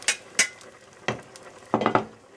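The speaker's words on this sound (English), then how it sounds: "Try and scrape off this residue, because that's real tasty" A utensil scrapes browned beef stew residue from the bottom of a pan: a few short, close scrapes and clinks spread out over a couple of seconds, with a faint sizzle under them.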